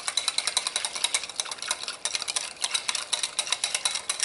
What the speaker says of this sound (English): Just keep stirring until that buttermilk.